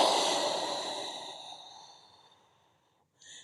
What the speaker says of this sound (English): as you exhale out, you're gonna do like a chew sound, like a chew, like you were blowing out a candle